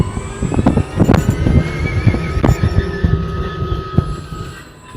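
An electric Cheetah UTV accelerating off-road with a rattling, clattering chassis and a thin whine, plus bumpy knocks and squeaks from rough ground that ease toward the end.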